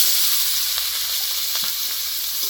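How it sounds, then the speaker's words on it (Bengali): Sliced onions sizzle in hot oil over whole cumin seeds, a steady bright crackling hiss with a few soft pops and stirs, close and continuous for under three seconds, with no voices. "পেঁয়াজটা ভালো করে একটু ভেজে নেবো লাল লাল করে।"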